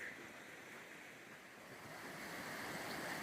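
A strongly flowing river in Nevada gives a steady, broad rushing roar that grows slightly louder toward the end, heard faintly and without voices.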